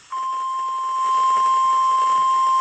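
A steady, piercing single-pitch Emergency Alert System tone comes in abruptly after a brief moment and holds loud and unbroken to the end, with no voices.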